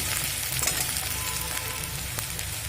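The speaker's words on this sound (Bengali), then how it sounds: "এবার এই তেল গরমের মধ্যে দিয়ে দেব কুচিয়ে রাখা পেঁয়াজ" Chopped onions hit hot oil in a pan for a Bengali chicken chop, giving a loud, dense, continuous sizzle with small crackles and pops close up, and no voices over it.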